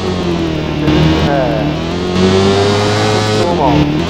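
A Suzuki Bandit 650 motorcycle engine in the Super Bike Riding Challenge PC game revs and accelerates loudly and steadily, its pitch climbing through several gear changes with brief drops between them, close and continuous.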